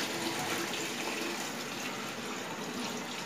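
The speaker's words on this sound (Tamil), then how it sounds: "நான் பன்னெண்டு படி தண்ணி வச்சுருக்கேன் பாருங்க நம்ம தண்ணி ஊற்றிடலாம்" Water poured steadily into a large cooking pot for a 50-serving chicken dum biryani, giving a continuous broadband gushing wash at even loudness throughout, with no talk.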